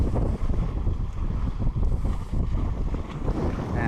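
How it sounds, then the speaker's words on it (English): A sailboat under both head sail and main sail moves through a good breeze, with loud, continuous wind buffeting and low rushing water and wave noise close by. "we got a nice bit of wind. We got both head sail and main sail out."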